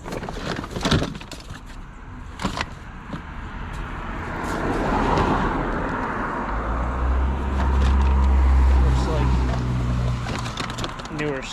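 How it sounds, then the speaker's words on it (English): Cars pass by on a road, with a vehicle swelling in from a distance and whooshing past loudly near the middle, low engine rumble lingering, after sharper knocks and rustling close by. "I literally had three cars pass me in a matter of what, 20 seconds, 30 seconds?"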